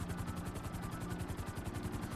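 GTA V helicopter hovering, steady rapid rotor thumping over a dense engine whine, continuous and fairly loud with no voices.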